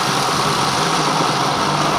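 A Nutrimix multipurpose blender runs with a loud, steady motor whir that holds constant and close throughout, with no talking.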